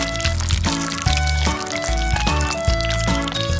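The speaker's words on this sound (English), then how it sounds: "Now let's pour some honey on my pancakes" Honey is poured over a stack of pancakes in a steady stream with a few soft glugs and drips, loud and close, over a background of cheerful music.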